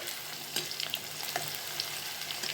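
Green chillies fry in hot tempering oil with a steady, close, loud hiss of sizzling, broken by small pops and crackles throughout, and no voices.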